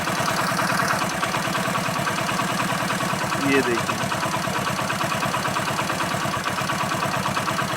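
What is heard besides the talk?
Hero Splendor motorcycle engine idling after carburetor adjustment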